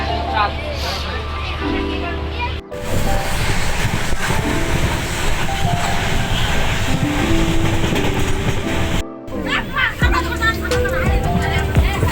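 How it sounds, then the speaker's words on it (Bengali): A train pulls out of Sealdah station in Kolkata, bound for Siliguri, with a steady loud rumble and rhythmic clickety-clack of wagons, short gaps in the noise and voices talking nearby over the rolling sound. "ট্রেন ছেড়ে দিয়েছে।"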